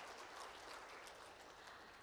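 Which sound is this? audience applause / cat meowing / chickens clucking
audience applause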